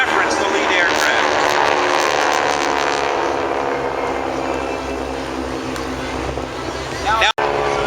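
Geico Skytypers propeller aircraft fly in formation at an airshow, a loud continuous engine drone with a steady droning hum under a commentator's voice, then a brief cut near the end.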